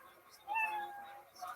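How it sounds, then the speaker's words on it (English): A tiny kitten meow plays as a sound effect to mark that time is up: one thin, high, drawn-out mew that is soft and brief over a quiet background. "At the end of the minute, you know your minute's up when you hear the sound of a kitty."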